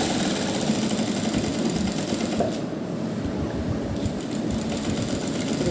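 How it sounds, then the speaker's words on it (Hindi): A sewing machine runs steadily, stitching along the edges of four cuff sleeve parts trimmed with piping, its whirring drone close and loud with a brief dip in the middle. "हम इन चारों पार्ट पे इसी तरह से सिलाई लगा देंगे।"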